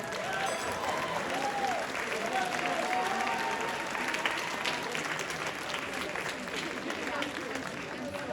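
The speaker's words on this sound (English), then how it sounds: "let's give a round of applause to our judges" Sustained applause from a crowd at a robotics championship event, steady and dense for the whole stretch, with voices and cheers mixed in beneath the clapping.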